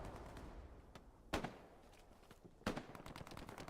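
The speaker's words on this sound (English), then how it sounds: "The gunfire coming from here." Distant gunfire from the video game Hell Let Loose: two sharp cracks stand out over faint background noise, with a scattered run of quieter shots after them.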